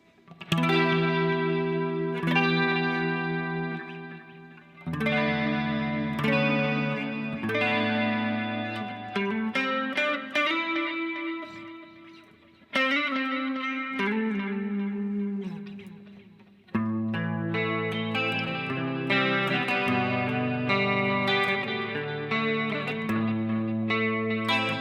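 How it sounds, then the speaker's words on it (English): Electric guitar played through a Julia chorus pedal on a worship pedalboard, with a delay still switched on: sustained chords and single-note lines swirl with chorus modulation and echo tails, loud and alone in repeated phrases. "And the Julia sounds like this if I could get it to work."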